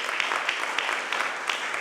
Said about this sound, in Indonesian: Tepuk tangan yang meriah ke Tuhan.